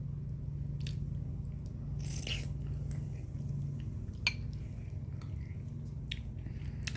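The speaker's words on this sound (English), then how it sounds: "Let me take a bite" Someone takes a bite of food eaten with a big spoon and chews it up close, soft wet squishing and occasional crunchy clicks over a low steady background hum, without talking.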